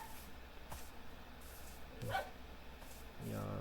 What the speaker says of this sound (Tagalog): sorry sa ingay ng aso.